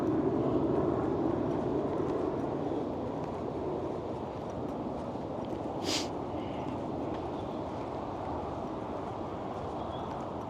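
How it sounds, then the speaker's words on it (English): An airplane passes overhead on the approach and departure path near Melbourne airport, a broad, steady roar that is loudest at the start and slowly fades, with no talking. "so we do get airplanes flying over"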